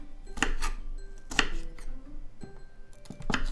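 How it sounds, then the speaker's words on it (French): Knife chopping small pieces of vegetable on a board, with sharp close chops spaced about a second apart over a light room background. "Je continue de couper mes petits morceaux."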